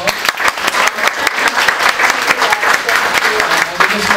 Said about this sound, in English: they're going to demonstrate it right now by giving you a warm round of applause